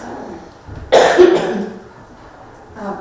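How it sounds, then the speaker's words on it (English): A person with bronchitis coughs once, a sudden burst up close during a council meeting, followed by a rough trailing tail, with quiet room sound around it. "Just if you hear me cough,"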